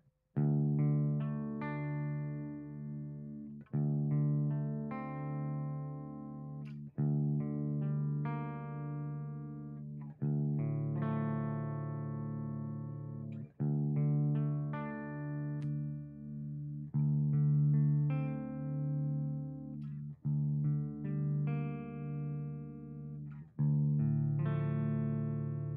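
A sustained, tuned instrument is played through a DSM Humboldt Simplifier amp simulator into a loudspeaker, sounding as steady, harmonically rich notes that change about every three seconds, loud and without talk.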